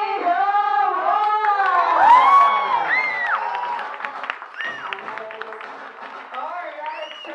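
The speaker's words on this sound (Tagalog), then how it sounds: "At syempre yung palakpakan na yan, mas maganda yan kung may kasamang hiyawan." A crowd at a live hosted event claps while cheering and shouting, with a loud mix of whoops and yells over the applause and people talking throughout.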